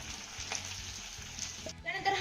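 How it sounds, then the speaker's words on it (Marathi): Garlic, curry leaves and ginger sizzle quietly in a hot pan, a soft, continuous frying hiss with faint stirring clatter. "लसूण आपला चांगला परतत आला की यामध्ये आपल्याला वीस ते पंचवीस कडीपत्त्याची पानं घालायची आहे"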